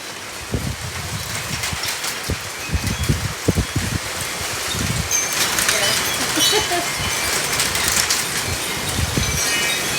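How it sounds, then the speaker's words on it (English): Heavy pouring rain during a Phoenix dust storm, a steady broadband hiss that thickens and grows louder over ten seconds, with bursts of nearby speech and rustling at the start. "It is heavy raining. It is pouring right now."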